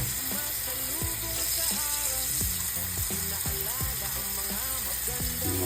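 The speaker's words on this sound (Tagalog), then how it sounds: "Tapos lagyan natin ng tubig." Water pours into a cooking pot with a continuous splashing, sizzling rush and bubbling gurgles, loud and close throughout, with no talking.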